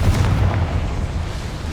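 Confringo fire spell explosion in the video game Hogwarts Legacy: a loud, deep rumbling blast that booms and fades over under two seconds.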